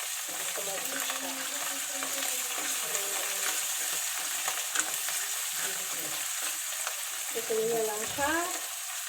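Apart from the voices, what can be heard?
mushrooms and garlic frying in a pan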